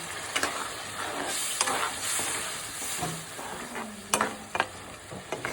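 A masala of tomato, turmeric, chili and salt sautés in oil for an egg tarka, giving a soft continuous sizzle and hiss broken by a few sharp stirring knocks against the pan.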